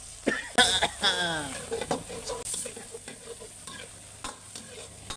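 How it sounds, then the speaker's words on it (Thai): Garlic, coriander root and chilli stir-frying in a little oil: a close, crackling sizzle under stirring scrapes, with a brief voice and a short cough near the start. "เราจะใส่น้ำมันเล็กน้อยนะทุกคน ใส่เทียมลากผักชีพริกปั่น คนให้หอมก่อนนะ"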